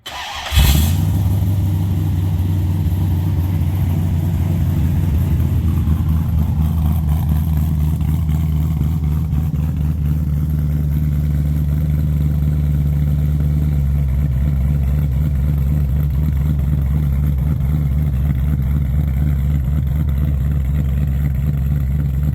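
A car engine cranks and fires, then settles into a loud, steady idle with a deep rumbling tone that shifts slightly partway through, running continuously close by before being loaded onto a trailer for a Supernats car show.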